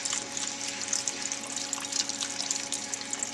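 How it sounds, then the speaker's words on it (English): Chicken stock poured into a pot for chicken pot pie, a continuous close splashing, trickling pour that stays steady throughout with no talking. "we're ready to add the rest of the chicken stock, so we'll just add it right in"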